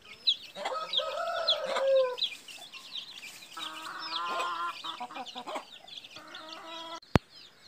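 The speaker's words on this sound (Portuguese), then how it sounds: "As galinhas estão aí, ó, todas esperando, preparando aqui a ração." Backyard hens clucking and calling in bursts while waiting for feed made from finely chopped banana leaves, fairly close, with a sharp knock near the end.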